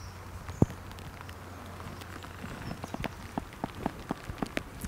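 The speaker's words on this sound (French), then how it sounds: "Et il pleut de plus en plus." Rain falling on a river during float-tube pike and predator fishing on the Vendée river, soft steady patter with scattered sharper drops growing busier, close and fairly quiet, one louder knock early on, no talk.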